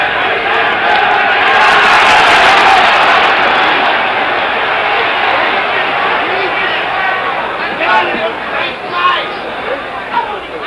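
Loud, sustained crowd roar at a 1966 WBC heavyweight boxing bout between Ali and Mildenberger, a dense swelling hubbub that peaks early and then eases into a steady murmur with scattered shouts.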